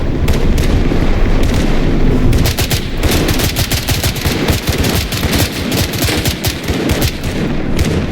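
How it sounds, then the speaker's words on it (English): Dense gunfire in the video game Blackhawk Rescue Mission 5, with rapid automatic bursts and overlapping shots in a fierce urban firefight, loud and continuous with no speech. "are they shooting down into the streets?"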